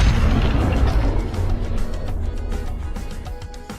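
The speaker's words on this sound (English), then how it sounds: "I'm going to give you those answers right after this explosion." A deep explosion booms and rolls on, loud and rumbling, breaking into crackling debris-like pops as it slowly fades.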